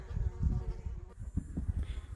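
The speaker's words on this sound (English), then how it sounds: "Can you hear that buzzing noise? It's like continual. They're just around you all the time." March flies buzz continuously close by on a mountain hike, their drone wavering in pitch as they circle, with faint outdoor ambience and no talking.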